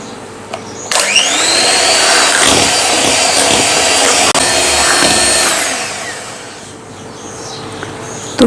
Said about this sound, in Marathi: आणि आता आपण परत एकदा हे मिश्रण छान बीट करून घेऊया।